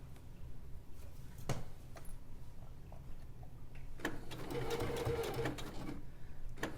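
A sewing machine stitches along a bag body, its motor whirring in a steady burst after a brief pause, near and fairly loud with soft handling noises around it.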